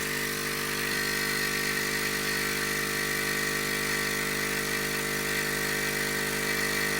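Air assist pump for a laser engraver and cutter, running steadily inside homemade soundproofing; a constant buzzing hum with an even broadband hiss, unchanging throughout and with no voices.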